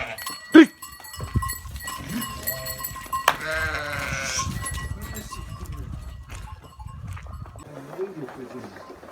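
Sheep and lambs bleating in a barn, scattered wavering bleats near and far amid shuffling and rustling, with people talking and calling intermittently.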